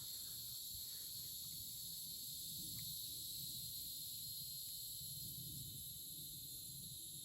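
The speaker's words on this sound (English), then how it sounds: "Crickets, cicadas, katydids, all kinds of noise." Crickets, cicadas and katydids chirp together at night, a dense, steady, shrill drone that runs unbroken throughout, fairly faint and with no voices over it.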